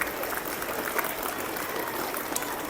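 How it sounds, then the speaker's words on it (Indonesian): Students at a school assembly applaud their classmates standing at the front, a dense steady clapping from a crowd that carries on throughout. "Tepuk tangan dulu untuk teman kalian, kakak kelas kalian yang ada di depan."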